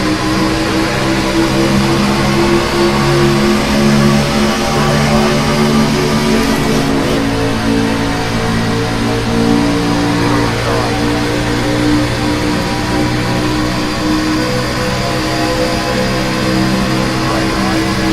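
NASCAR Xfinity race car engines in the iRacing game at Atlanta Motor Speedway, droning and accelerating together as a dense, sustained pack roar with shifting engine tones throughout.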